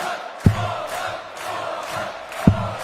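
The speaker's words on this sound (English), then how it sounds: "Do like that chant, Horvat, Horvat." Darts crowd at a European tour match chants a player's name in a rhythmic two-beat pattern, repeated in a loud, reverberant arena with drum-like thumps marking the cycle.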